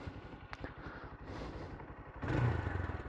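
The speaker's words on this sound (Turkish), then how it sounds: "gördüğünüz gibi egzoz tırt. Yani tırt değil de ses tırt. Ses pek iyi değil." A Mondial 150 Z-ONE motorcycle idles with a low, rapid pulsing exhaust putter, then revs up briefly louder near the end.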